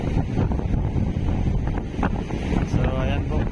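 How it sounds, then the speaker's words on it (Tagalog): Strong typhoon wind buffets the microphone at a seaside port, with waves churning and roaring loudly throughout. The gusting rush is continuous and close. "tapos yung hangin, malakas yung hangin"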